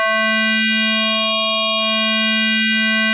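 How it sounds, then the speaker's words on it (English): A synthesizer sine wave under FM modulation by another sine wave holds one steady, bright, buzzing tone rich in evenly spaced overtones, loud and unchanging for about three seconds. "the FM modulator is a sine wave and we're going to be modulating a sine wave"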